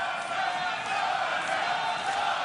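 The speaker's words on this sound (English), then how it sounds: "And the crowd already responding to what's been a fairly quick start from Povetkin" Boxing arena crowd at the Povetkin vs Rahman heavyweight fight, a steady roar of cheering and shouting filling the hall without a break.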